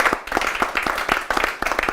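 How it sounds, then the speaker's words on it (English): A small audience at a fireside talk gives a round of applause, close and fairly loud, with individual hand claps clearly audible in an uneven, lively patter. "a round of applause"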